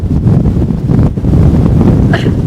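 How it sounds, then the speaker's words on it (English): Strong wind on a coastal clifftop at Scotland's most southerly point, buffeting the microphone in a steady low roar with gusty swells throughout. "it's so windy"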